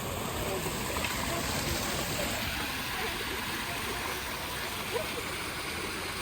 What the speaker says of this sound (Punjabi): ਪਾਣੀ ਹੈ ਨਾ ਉੱਪਰ ਦਰਖਤ ਥੱਲੇ ਵੀ ਵਹਿੰਦਾ ਹੋਇਆ ਨਾ ਝਰਨ ਝਰਨ ਕਰਦਾ ਝਰਨਾ